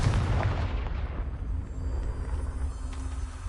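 The Confringo blasting spell from Hogwarts Legacy goes off as a deep, rumbling boom that bursts at the start and then fades into a low, faint rumble.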